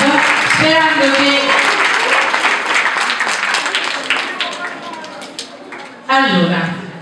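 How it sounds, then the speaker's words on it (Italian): At an outdoor community event on sustainability and zero waste, an audience applauds with scattered claps that thin out, while someone speaks over them and another voice cuts in near the end. "Allora, un applauso a queste ditte che ci hanno aiutato"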